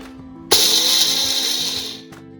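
A mixer grinder coarsely grinds roasted masala spices for a carrot and radish pickle, a loud steady whirring burst starting abruptly and running about one and a half seconds before cutting off, with a faint hum before and after.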